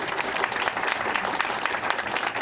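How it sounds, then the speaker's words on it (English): Steady, dense applause from a school board meeting audience, loud and continuous throughout with no pauses. "You can clap for them."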